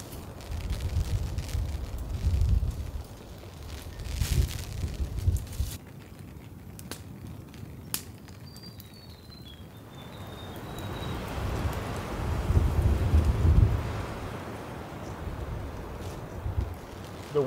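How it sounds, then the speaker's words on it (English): Wind gusts swirl around an outdoor campfire, rising and falling in low rumbling waves with a quieter lull in the middle, while the fire crackles faintly. "The wind is just swirling around here, mainly going towards the camera"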